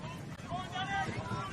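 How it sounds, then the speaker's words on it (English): Gusts of wind buffet the microphone at an outdoor football match at Adelaide United versus Adelaide City, a rough, rumbling roar that swells and dips for under two seconds. "And there's that wind again."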